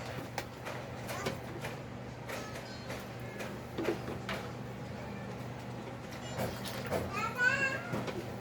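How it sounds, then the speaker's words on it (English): Children playing and chattering in the background of a home where dish washing liquid soap is being made, faint and intermittent, with a few thumps and clicks and a nearby adult voice. "Sorry for my children's noise in the background."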